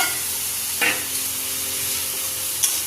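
Fried potatoes and eggplant being stirred into a spice masala make a steady, loud sizzling hiss with a couple of brief scraping stirs, no voices.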